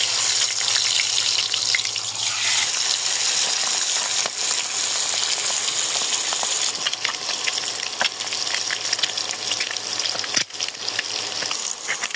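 Eggs frying in hot oil that was salted first to stop spattering, a dense, steady crackling sizzle that runs loud and close for the whole stretch with no talk.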